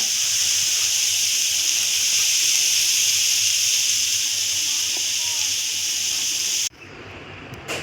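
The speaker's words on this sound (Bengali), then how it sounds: "একটু নাড়াচাড়া করে নিচ্ছি, 5 মিনিট নাড়াচাড়া করলেই হয়ে যাবে।" Chowmein noodles are stirred in a hot pan, giving a loud, steady, close sizzling hiss that continues unbroken and then drops off abruptly near the end.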